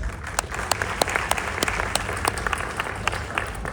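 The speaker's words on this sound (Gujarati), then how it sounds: "આ સન્માન સૌથી વધારે તાળીઓને લાયક છે" An audience claps steadily at an award ceremony, dense applause with sharp individual claps standing out throughout.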